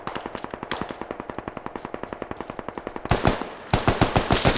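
Automatic gunfire in the military shooter game Squad comes in a long, rapid string of loud, evenly spaced shots, then a brief pause and another fast, heavier burst.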